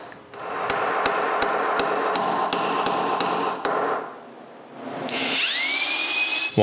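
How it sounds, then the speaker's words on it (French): A hammer strikes a stuck part of a walnut and oak wooden lamp in eight sharp, evenly spaced blows, followed by a pause and then a high whining tool sound. "Je retourne au marteau et je travaille sur ce qui reste des 2 côtés."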